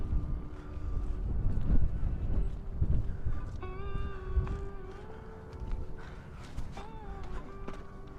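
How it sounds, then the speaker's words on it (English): Outdoors on Twin Peaks in San Francisco at sunrise, wind buffets the microphone in a steady low rumble, with thin whining tones drifting over it. "the wind is just blowing from directions I cannot avoid"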